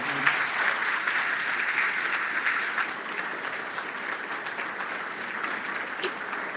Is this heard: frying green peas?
no